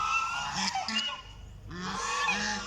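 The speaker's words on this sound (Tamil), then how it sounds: "அன்னத்தினுடைய சவுண்டை பாருங்கள்." A swan calling: repeated honking, goose-like cries, fairly close and clear over faint background noise, in two bursts separated by a short lull.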